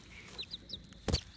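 A chicken gives a few short, soft clucks, a quick brief burst of fowl calls at close range with no other sound around it.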